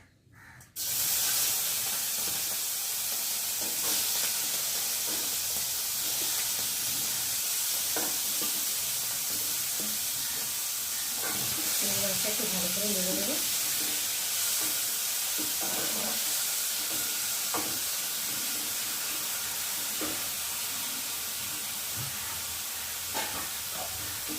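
Prawns frying on a hot tawa for a kochu phool (taro flower) recipe, with loud continuous hissing and spitting oil throughout and occasional clicks of utensils.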